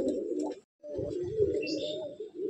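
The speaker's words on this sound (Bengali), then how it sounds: "এটা দাদার নেক্সট পেয়ার আন্ধ্রা ফুলশিরা পায়রা" Andhra pigeons in a pigeon loft give low, rolling coos that run almost continuously, broken by a brief pause, with faint higher chirps from other birds behind.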